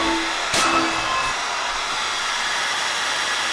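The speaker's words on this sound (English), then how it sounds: "we're gonna get the hairdryer on the go" A hair dryer blowing onto wet cement: a steady broadband blowing throughout, with a brief louder burst near the start.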